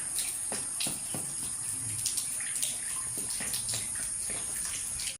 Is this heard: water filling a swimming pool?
yes